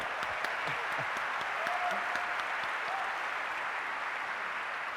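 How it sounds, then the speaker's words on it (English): Steady, dense applause from a large audience for an orchestra at a Nintendo E3 2011 concert, continuous clapping filling the room without letting up. "let's give a big round of applause for our orchestra today"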